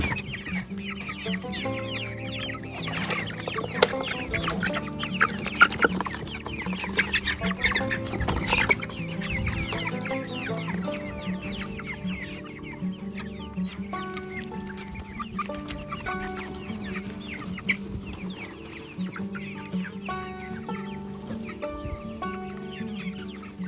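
Chickens, a flock of young roosters and hens kept among chicks, cluck and call continuously for over twenty seconds, many birds overlapping at moderate distance with no talking.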